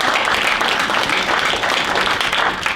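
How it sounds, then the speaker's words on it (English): Audience at an evening meeting of a film-industry group applauding a sponsor, a dense, steady wash of many hands clapping at close range throughout, with no talk over it. "So if we could give them a round of applause."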